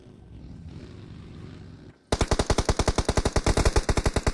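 Automatic gunfire in a PUBG Mobile tournament match, long-range shots: after a short stretch of quieter game ambience, a loud, fast, evenly spaced burst of rifle shots runs for over two seconds.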